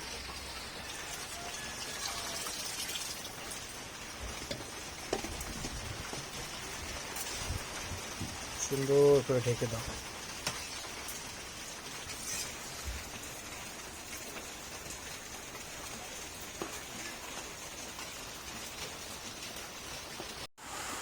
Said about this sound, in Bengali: বাহিরে অনেক বৃষ্টি নামছে